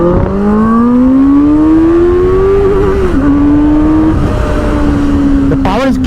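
A Benelli 600i motorcycle with stock exhaust revs up loudly and close, its pitch climbing smoothly, dipping briefly, then holding a raspy drone.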